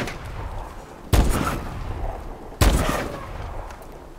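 Gunfire from Call of Duty Advanced Warfare, in two loud sharp bursts roughly a second and a half apart, each trailing into a rumbling rolling decay over a low constant background.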